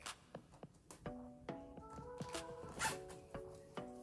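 A zipper on the fabric lining of a handmade wallet is pulled open in a series of short, close, sharp rasping zips with small pauses and clicks between them.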